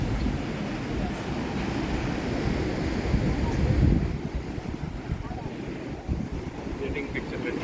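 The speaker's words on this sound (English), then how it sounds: "these waves are so beautiful" Big ocean waves break at Burleigh Heads on the Gold Coast, Australia, making a continuous, heavy roar of surf mixed with gusty wind buffeting the microphone, with one swelling surge midway.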